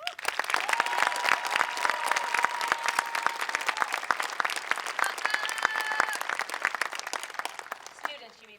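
A graduation audience claps in sustained, dense applause for the graduating students, steady and loud for about eight seconds before tapering off at the end, with faint voices and a few tonal cheers mixed into the clapping.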